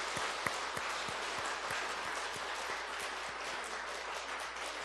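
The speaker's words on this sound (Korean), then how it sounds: "우리 또 감사의 박수 하겠습니다." A church congregation at a Sunday worship service gives steady, moderately distant applause, with dense clapping holding evenly throughout.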